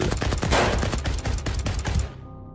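Loud, rapid bursts of gunfire crackling in quick succession for about two seconds, then cutting off abruptly.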